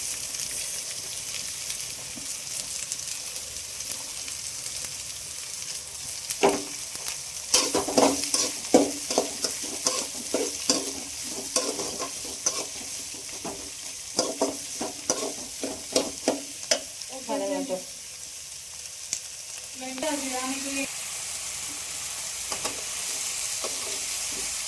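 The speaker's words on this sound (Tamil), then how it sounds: "வெங்காயம் வதங்கிடுச்சு." Onions sautéing in a pan for chapati kurma, a steady hiss of frying under repeated scraping and stirring strokes of a spoon against the pan, close and fairly quiet.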